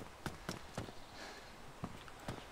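Footsteps in DayZ Standalone, a run of evenly spaced soft thuds, fairly faint and close, with a quiet gap before two more steps.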